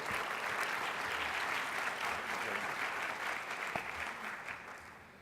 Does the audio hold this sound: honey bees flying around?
no